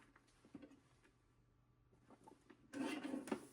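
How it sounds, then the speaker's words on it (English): A paper trimmer slices through a stacked piece of gold card stock during card making, with soft scraping and light taps leading into a brief, louder rasping cut near the end, all quiet and close. "we'll stack them and trim horizontally now with this piece"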